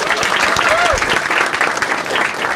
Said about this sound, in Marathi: छान, एकदा टाळ्या वाजवायच्या.